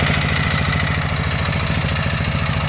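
A motor tractor's engine runs steadily with its rotary tiller engaged, a loud, close, evenly pulsing chug that holds throughout with no talking.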